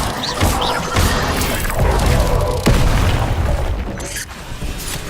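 Bombarda explosion spell in the video game Hogwarts Legacy, a loud booming blast with crashing and shattering debris amid ongoing spell combat, several heavy impacts over about five seconds.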